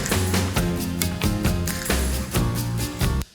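Castanet rolls in a Wall of Sound style arrangement, rapid clattering bursts layered over a loud full band with drums and bass, ending abruptly.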